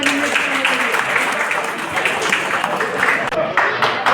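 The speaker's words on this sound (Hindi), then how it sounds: "जोरदार तालियां बजाएं।" Audience applause at a Sanskar Bharti book launch and poetry gathering, a dense, steady wash of clapping from a crowd that holds for the full length, with murmured voices mixed in underneath.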